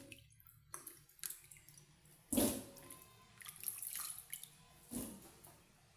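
Cassava being rinsed in water a second time, with intermittent splashes and pouring bursts, a few louder sloshes standing out against quiet background.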